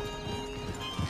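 Horse hooves clip-clop steadily in a Western video game, a few hooves striking close by with a faint whinny underneath and no talking.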